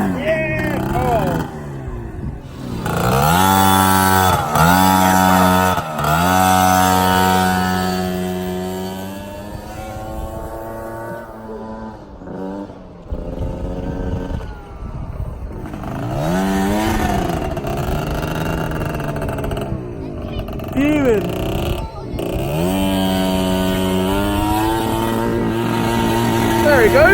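A Piaggio NRG MC3 50cc scooter revs hard and shrill while drifting donuts, its whining engine rising and falling repeatedly in rapid bursts, with excited voices cheering nearby.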